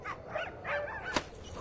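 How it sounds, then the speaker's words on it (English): Cartoonish dogs bark and yip in the RuneScape video game, several short sharp barks across the clip with one louder thump-like bark near the end, over a soft game background. "Oh, look at the dogs."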